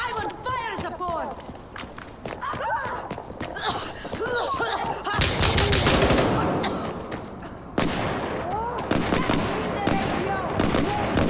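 Gunfire crackles in Insurgency Sandstorm, with bursts of rapid automatic shots and sharp single reports, a loud heavy volley in the middle, mixed with footsteps and voices talking throughout.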